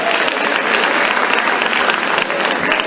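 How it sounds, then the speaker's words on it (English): Crowd applause at an ANC candidates' roll-call event, greeting the KwaZulu-Natal province delegation: dense, steady clapping from a large audience, loud and sustained throughout with some voices mixed in. "let's give KZN a big round of applause"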